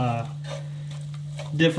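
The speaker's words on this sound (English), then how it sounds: "when it comes to making a roux, this is how you start making your gravy" Roux of flour being stirred in a pan for Cajun gumbo gravy, with a steady low sizzle and soft scraping strokes running throughout, close and moderately loud, a brief louder scrape near the end.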